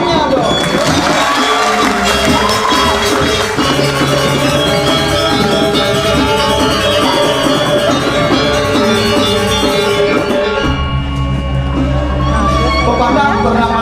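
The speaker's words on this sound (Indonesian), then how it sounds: "tepuk tangannya dong." An audience at a Balinese Drama Gong performance claps and cheers loudly and continuously, with shouts and whoops mixed over music and a voice.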